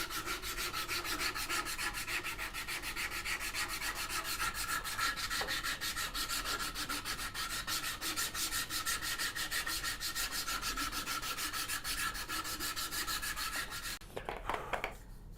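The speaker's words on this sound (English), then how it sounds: "And before flipping it over, I'm just going to sand this side." A piece of alder wood for a turning saw is sanded by hand, a rapid, even back-and-forth rubbing close by, continuous for about fourteen seconds before stopping with a few faint handling knocks.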